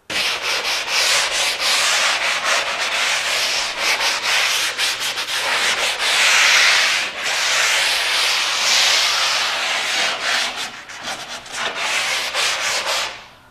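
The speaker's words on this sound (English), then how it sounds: "I just did a very light sanding along the edges" Dried drywall joint compound is lightly sanded along the edges, producing a continuous close scratchy rubbing hiss in long strokes with brief pauses, with no one talking.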